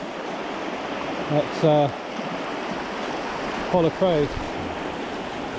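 Rapids on the River Usk on the Glanusk Estate in September, with water rushing in a constant broad roar. Two short bursts of speech break in briefly over the water noise.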